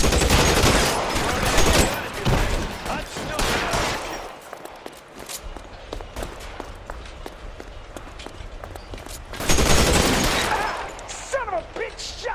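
L.A. Noire gunfire in a shootout, loud bursts at the start and near ten seconds, with scattered single shots and footsteps in between.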